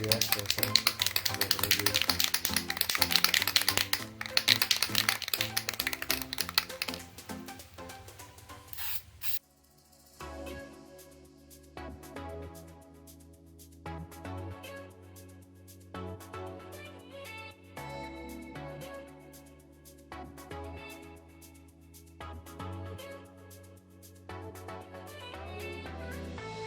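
Spray can of aluminum paint hissing onto a Honda intake manifold taped up for painting, a loud continuous spray burst for several seconds, then quieter intermittent tapping and handling sounds with background tones.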